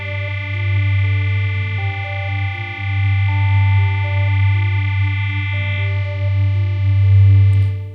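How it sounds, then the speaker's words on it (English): A Synapse Audio Dune 3 synth pad patch plays dry with its effects turned off, sustained layered chords with a heavy low drone and shifting notes above, loud and continuous. "if we disable the effects and just listen to the actual patch itself"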